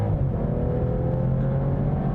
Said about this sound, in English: And just because we can, we're going to do the launch control one more time.